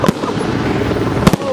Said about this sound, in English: Oh, we got the fireworks.